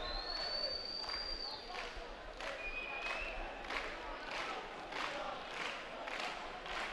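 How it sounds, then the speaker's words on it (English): At the 2011 World Boxing Championships in Baku, an Azerbaijani crowd at a boxing bout keeps up a steady roar of cheering with a shrill whistle cutting through and a voice heard at times. "The Azerbaijani crowd out in full force"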